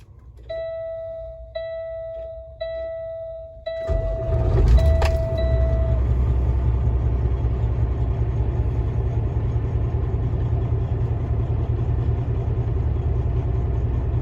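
A 2015 Kenworth T660 glider truck's diesel engine starts up after a few beeping chimes and settles into a steady, loud idle that rumbles on continuously close by.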